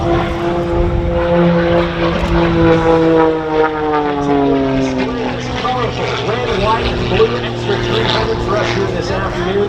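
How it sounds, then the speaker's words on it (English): Propeller engine of an Extra 300S aerobatic plane performing at an air show over Lake Cumberland Regional Airport, a loud continuous drone with shifting pitch as it maneuvers overhead, with a voice talking over it. "flying all ways but straight in the beautiful blue skies of the Lake Cumberland Regional Airport"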